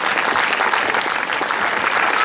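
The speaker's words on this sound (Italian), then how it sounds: "l'applauso a loro" Steady, dense applause from an audience honoring performers at a Sardinian evening event in Ploaghe, sustained and even throughout without pause.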